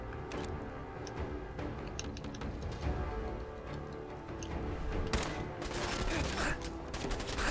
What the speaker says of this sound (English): What the hell's he shooting me with?